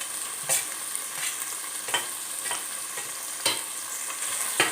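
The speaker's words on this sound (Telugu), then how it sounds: "పచ్చిమిరపకాయ ముక్కలు వేసుకుందామండి అవి కూడా ఒకసారి తిప్పుదాం సన్నగా తరిగిన ఉల్లి కాడలు వేస్తున్నానండి" Chopped green chilli and spring onion fry in a pan with a low, continuous sizzle, punctuated by about half a dozen distinct scraping stirs of a spoon at irregular intervals.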